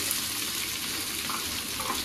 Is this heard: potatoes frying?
yes